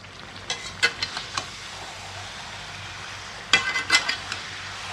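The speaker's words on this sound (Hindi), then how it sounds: "इधर चिकन हमारा 4 घंटे से मैरिनेट हो चुका है तो अब इसे तेल में डाल दें।" Marinated chicken pieces drop into hot oil with sharp crackling bursts near the start and again toward the end, over a steady background sizzle; no one talks.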